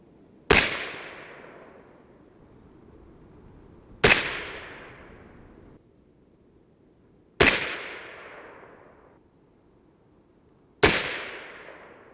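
Four sharp 6.5 Grendel rifle shots fired with a Reloader 15 load, evenly spaced about three and a half seconds apart, each a loud crack followed by a short decaying echo.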